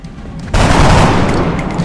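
A loud burst of rapid gunfire erupts after a short quiet lead-in, a near, sustained volley shooting a flanked enemy in the game XCOM Enemy Within Long War.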